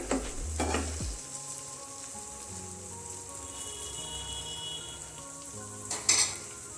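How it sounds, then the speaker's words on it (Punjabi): Stuffed okra frying in an open pan on a gas stove, a steady soft sizzle and crackle running throughout with a few louder stirring bumps near the start and end, no voices. "ਭਿੰਡੀਆਂ ਨੂੰ ਆਪਾਂ 2 ਮਿੰਟ ਹੋਰ ਪਕਾ ਲਵਾਂਗੇ"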